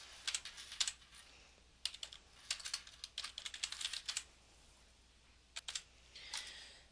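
Close, crisp keystrokes on a computer keyboard while layer names are entered in CAD software, coming in quick clustered bursts with short pauses between words and no voices.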